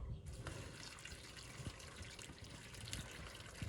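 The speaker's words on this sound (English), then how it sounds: "Cover it with boiled water." Boiled water is poured from a kettle over chicken in a pot to make stock, a faint, steady splashing pour that runs continuously for a few seconds without talk.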